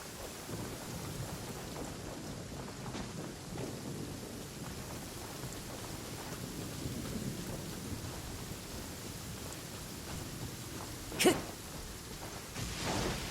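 Heavy downpour hissing steadily with rumbling thunder throughout, a sharp close crack near the end, and no voices.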